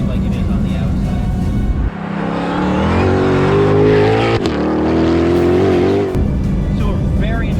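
Inside the cabin of a Ford Mustang GTD, the engine revs up through rising, muffled harmonic tones, settles, then climbs again before dropping back to a low drone, all heard close but subdued.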